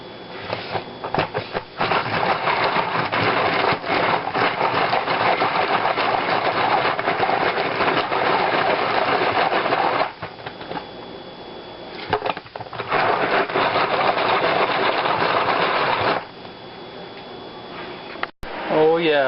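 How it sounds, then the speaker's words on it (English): A manual chopper spun to chop a whole onion gives a loud, rattling mechanical whir in one long burst, then shorter spins after brief pauses, with a voice speaking in between. "I'll do the whole onion at once and just give it a couple spins"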